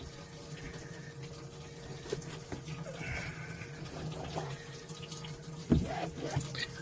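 Water filling a boat's bilge, a steady, faint trickle and running flow with a few soft knocks and splashes near the end.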